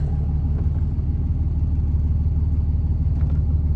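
A loud, steady, low diesel rumble comes from a 3rd Gen Cummins truck idling close by as it backs out of a shop, with no talk.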